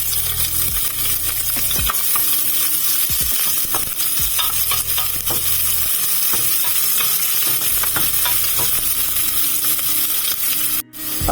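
Chopped onions frying in a pot for balbacua, a loud continuous sizzle with stirring clatter and scraping throughout, no voices.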